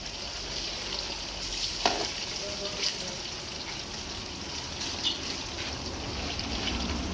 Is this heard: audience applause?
no